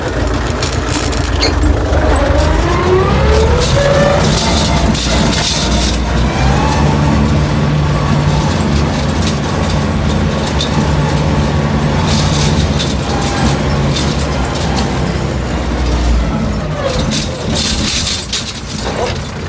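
A tractor with its plough lowered and in gear reverses across a wet field, its engine a steady loud rumble throughout, with mechanical clatter and brief voice sounds mixed in.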